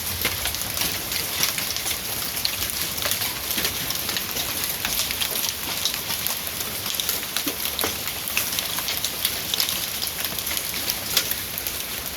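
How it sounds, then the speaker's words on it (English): Rain and hail pelting down during a passing storm, a steady dense patter with scattered sharper impacts throughout, no voices. "This is probably the first time she's seen hail."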